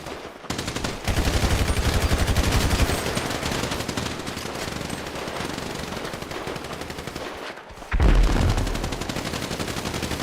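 Gunfire in a PvP video game: dense, loud automatic weapon fire rattles almost without pause for about ten seconds, with a brief gap near the eighth second before a heavier burst resumes. No one speaks.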